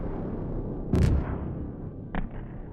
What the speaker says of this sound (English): I'll say that the explosions go off